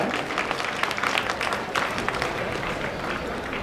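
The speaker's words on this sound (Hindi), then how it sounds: "कृपया जोरदार ताली से" Dense, steady clapping from a large outdoor audience at a CRPF passing out parade, a continuous broadband wash of many hands with no talk over it.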